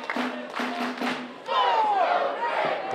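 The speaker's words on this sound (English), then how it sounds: "The crowd tried to rally around their champion, the people's champion, Dak Draper." Wrestling crowd shouts and rallies behind champion Dak Draper at an NWL match, a dense roar of voices that swells louder partway through and stays strong.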